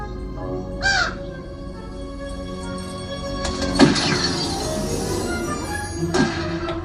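Several crows caw in a scene from the movie The 'Burbs, with a burst of calls near the start and louder caws around the middle and end, set over a steady background bed with clinking and rumbling.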